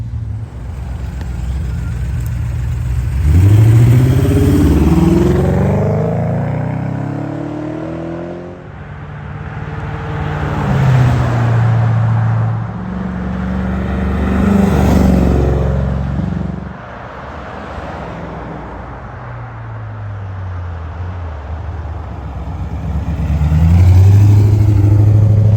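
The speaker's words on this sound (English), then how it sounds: "Well, we took some mellow flybys." A 1998 Aston Martin V8 Coupe makes several passes at a mellow pace, its engine note rising as it approaches and fading as it goes by, with repeated loud swells across the stretch and no talk over it.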